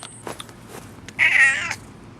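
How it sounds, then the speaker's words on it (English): A cat meows once in a garden, a clear, fairly close, drawn-out call that rises and falls, with a few faint soft noises just before it and nobody talking. "Meow. And there's a cat."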